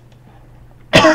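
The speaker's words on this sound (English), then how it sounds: "Stop coughing, you don't need to!" A single sharp cough bursts out close to the microphone after a moment of near silence, brief and loud.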